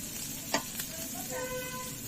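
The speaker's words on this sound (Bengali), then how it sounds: "ভালো করে ভেজে নেব। সয়াবিন ভালো করে ভাজা হয়ে গেছে" Soybean chunks fry with turmeric and chili powder in a pan, a quiet steady sizzle broken by a couple of sharp scraping stirs near the start.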